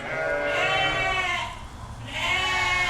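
Young ewes on a farm bleating loudly up close, two long quavering calls separated by a short gap, with other sheep faintly in the background.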